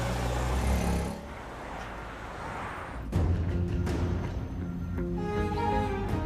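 A car drives along following a white car in traffic. A steady engine and road rumble is broken by a sharp thump partway through, then the drone carries on.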